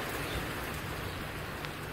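Heavy rain falls steadily during a thunderstorm, heard as a continuous, even hiss of drops at moderate level with no voices over it.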